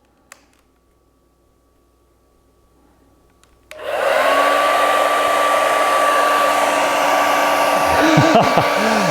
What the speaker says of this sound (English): This is an 1800 watt hairdryer.